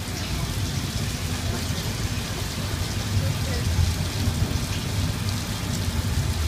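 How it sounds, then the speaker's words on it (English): Artificial rain falls from a hidden overhead sprinkler on a Universal Studios backlot tour, a loud, continuous hiss and patter of water on the ground with a low rumble beneath and a voice faintly audible. "rain is created by an overhead sprinkler hidden from view"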